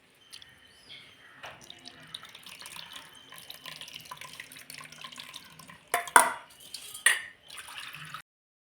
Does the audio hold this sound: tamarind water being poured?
yes